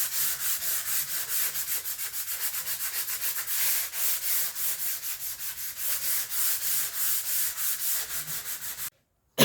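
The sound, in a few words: sanding primed wood with a 240 grit sanding pad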